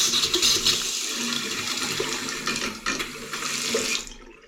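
Water rushes into a toilet and basin as the supply is turned back on in a newly fitted shower room, a loud steady gushing flow that cuts off abruptly near the end.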